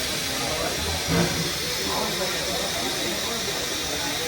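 A steam train at a station ahead of a birthday run between Drayton and Wyreema lets out a continuous broadband hiss of steam, steady and fairly loud, with a brief swell near the start.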